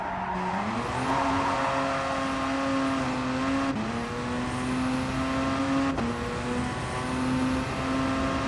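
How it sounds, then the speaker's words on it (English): A turbocharged car engine in the Gran Turismo Sport racing game drones loudly and continuously, rising in pitch through gears with brief shift breaks, tire squeal faintly mixed in, no talking. "The turbo makes it sound like some sort of diesel."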